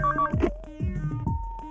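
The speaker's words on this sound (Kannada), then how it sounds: "ರಿಂಗ್ ಆಗ್ತಾ ಇದೆ." A telephone ringing in a call from a coin-operated phone, short repeated electronic ring tones mixed with other tonal sounds, close and fairly clear, with no speech.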